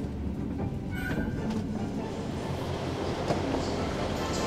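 Steady low rumble of a moving, very crowded train carriage arriving at Cardiff, constant and close, with faint murmuring voices and occasional soft clatter.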